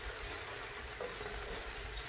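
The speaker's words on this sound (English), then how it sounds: "you hear it sizzling" Soft, steady sizzling of seasoned food frying in a pan for Italian minestra, a faint crackling hiss with no talking.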